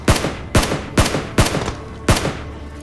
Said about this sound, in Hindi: तभी मुझे एकदम से गोलियां चलने की आवाज़ आती है साइड से।